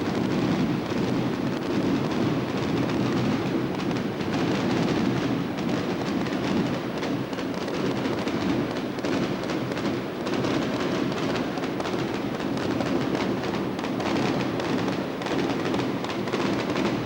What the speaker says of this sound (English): Now that the firecrackers have welcomed the teams